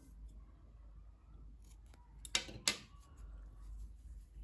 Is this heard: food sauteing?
no